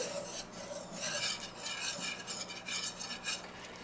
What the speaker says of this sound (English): We're gonna mix our flour in with our butter real good.